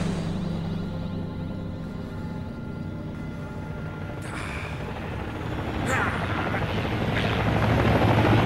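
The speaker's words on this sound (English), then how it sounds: "Three helicopters approaching at high speed." Three helicopters approach at high speed, a steady loud rotor drone that swells toward the end as they draw nearer, with brief bursts of other noise over it.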